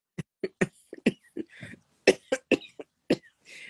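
Close, repeated coughing comes in a rapid string of short, harsh bursts with brief pauses and a raspy breath near the end.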